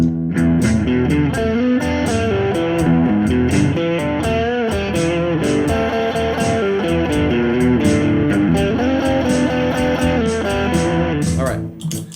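A distorted electric guitar plays a continuous melodic blues solo, mixing chord tones and pentatonic runs, with bent notes and quick runs, loud and steady throughout.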